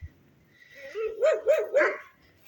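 Neighbours' dogs bark three times in quick succession, fairly close and clear, with a short whine leading in and no talking.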